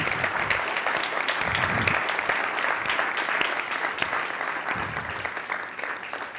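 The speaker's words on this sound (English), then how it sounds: "So if you agree to address an applause for them." An audience applauds the development team at the presentation event for the new IBA Cyclone KIUBE, with dense, steady clapping that holds at an even level the whole way through.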